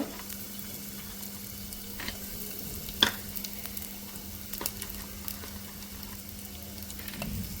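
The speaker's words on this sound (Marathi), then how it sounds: "इथे तूप गरम झालं आहे आणि त्यामध्ये जिरे घातले. आता जिरे परतून झालेत" Cumin seeds frying in hot ghee for a one-pot khichdi, a soft continuous sizzle with a few scattered clicks and light stirring taps, fairly quiet and close.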